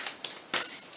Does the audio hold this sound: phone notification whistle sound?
no